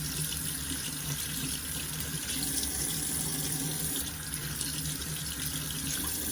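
Water runs steadily from a tap into a sink, being used to warm and clean a Rolex watch; a continuous, close, even hiss with no talking.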